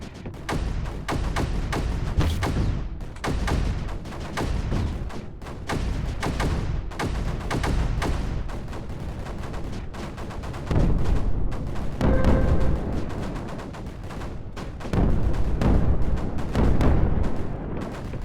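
Mortars fire repeatedly in the strategy game Creeper World 4, a dense run of loud thumps and booms arriving in clustered bursts throughout, with no talking over them.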